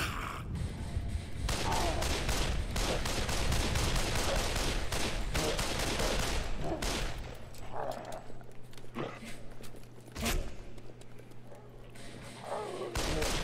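Dense, rapid gunfire bursts crash through the first half of a Shellshock 2: Blood Trails battle, shotgun blasts mixed with other weapons, loud and close, thinning into scattered shots and a low hum later.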